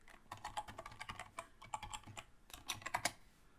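Keys tapped on a computer keyboard while a layer name is typed into motion-graphics software, a quick run of close, crisp clicks in uneven bursts with a short pause midway, no voices.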